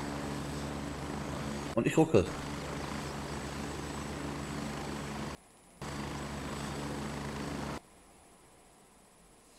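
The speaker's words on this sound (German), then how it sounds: "Lauter Hubschrauber." Continuous helicopter rotor noise from the Gray Zone Warfare game, a steady broadband whir that drops out briefly and then cuts off near the end, with a short burst of speech early on.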